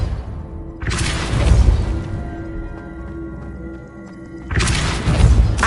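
Two heavy Depulso spell impacts from Hogwarts Legacy, each a loud booming burst with a shattering crash, the first near the start and the second near the end, a low rumbling ambience between them.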